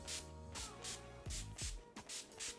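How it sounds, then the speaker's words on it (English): NYX Matte Finish Setting Spray is misted over a made-up face in about six quick, close, airy spritzes in a row, faint and hissing. "And then I'm spraying with NYX Matte Finish Setting Spray."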